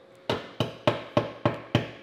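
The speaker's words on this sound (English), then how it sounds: "to use a hammer and little screwdriver here to take off some of the more egregious stuff" Six evenly spaced sharp hammer blows strike rusty metal on a car body, each a bright metallic knock with a short ringing decay, close and loud.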